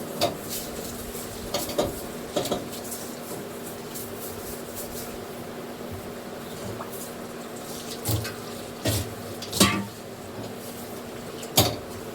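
Utensils and gas-stove parts are washed in a kitchen sink under steady running water, with occasional clinks and knocks of metal pieces against each other, close and fairly quiet, with no talking.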